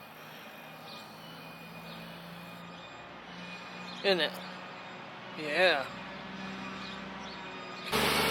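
A garbage truck rumbles in the background of a street, with a couple of brief rising whine-like tones and a sharp hiss near the end, while people exchange a few quiet words.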